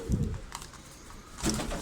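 Soft, low coos from a young pigeon, one at the start and another near the end, fairly faint with quiet background in between.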